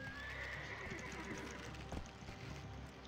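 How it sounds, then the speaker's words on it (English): A horse whinnies and rears in Black Desert Online over a busy backdrop of hooves clip-clopping and ambient noise, the call rising briefly near the start, moderately loud. "this horse is very eager to rear"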